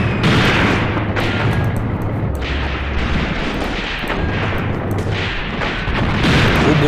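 Gun and tank fire in the video game Graviteam Tactics: Mius Front, set on a 1942 Soviet front, comes as a dense, continuous rumble of booms and blasts, with a low droning engine underneath.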